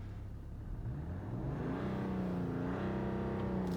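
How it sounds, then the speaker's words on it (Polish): A warmed-up BMW 535d diesel engine (313 hp) idles then revs up, rising into a deep droning roar that holds steady, close and loud, with no talking. "żebym przegazował, chcą usłyszeć jak fałsz brzmi."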